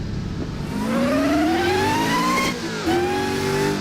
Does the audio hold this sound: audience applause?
no